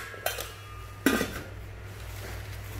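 A Japanese stainless steel pot, 24 cm wide and 15 cm tall with a slight dent, is handled, giving two sharp, close metallic clanks with brief ringing decay in a quiet room.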